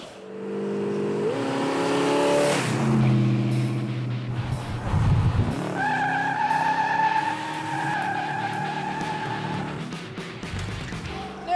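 A 1970 Dodge Challenger T/A muscle car under hard acceleration, a loud, rising engine roar with a tire squeal mid-run, then a long pass that fades slightly as it pulls away.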